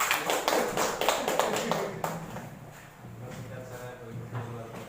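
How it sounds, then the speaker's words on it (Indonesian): An audience claps hands at an indoor event. Brisk, scattered claps crowd the first couple of seconds, then fade into softer knocks and background voices. "Tepuk tangan untuk kita semua."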